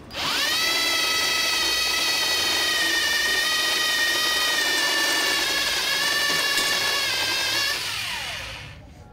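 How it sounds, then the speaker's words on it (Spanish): A power drill with a step bit whines at high speed for several seconds while enlarging a hole, its pitch holding steady under load before winding down at the end. "el siguiente paso es con este taladro y la broca escalonada"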